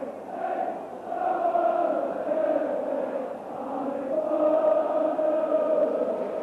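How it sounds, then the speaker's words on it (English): A football crowd singing in the stands at a 1990 Sunderland versus Spurs league match, a sustained, droning chant of many voices carrying steadily through the stadium, fairly loud and unbroken. "This has the crowd singing."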